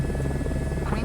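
An Airbus helicopter taxiing in Microsoft Flight Sim 2024 gives off a brief, continuous rotor hum and buzz, loud and close, with a simulated radio voice mixed in.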